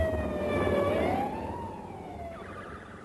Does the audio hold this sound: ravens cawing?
no